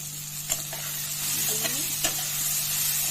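Small fish being stirred in a pan with salt and turmeric, a few scraping strokes over a steady sizzle of hot oil, close and moderately loud.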